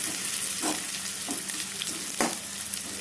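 Onions sizzle steadily in a hot pan while being stirred until golden brown, a continuous close frying hiss with occasional stirring scrapes and no talk.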